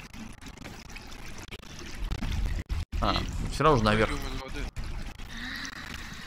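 Water pours and trickles through a sewer in Conan Exiles, a steady rushing flow that runs under two men chatting casually.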